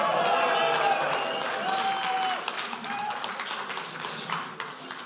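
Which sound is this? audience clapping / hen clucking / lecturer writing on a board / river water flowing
audience clapping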